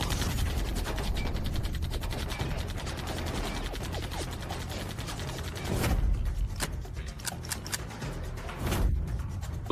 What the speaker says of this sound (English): Why did both guns jam at the same time?